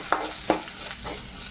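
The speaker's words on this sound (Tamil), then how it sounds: "பூண்டு 3 சேர்த்து லைட்டாக வதக்கி விட்டுக்கலாம்." Crushed garlic with pepper and cumin sautéing in hot oil after mustard seeds, a close soft sizzle broken by two quick spatula scrapes.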